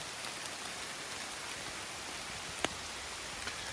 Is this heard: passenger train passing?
no